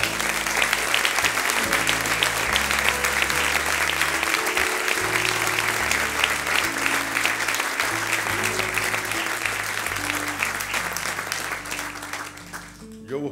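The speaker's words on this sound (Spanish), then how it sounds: "Y le damos un aplauso a los hermanos que vinieron con mi hermana." Sustained applause from a church congregation at a Spanish-language service, dense and steady for most of the stretch before tapering at the end, with music or voices faintly underneath.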